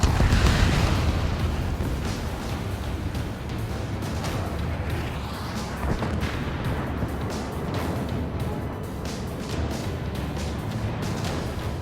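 Missiles launch and detonate in the air-combat game Ace Combat 7, a dense, continuous roar of explosions and rumbling blasts over a steady engine wash, loud and sustained throughout with a heavier boom at the start.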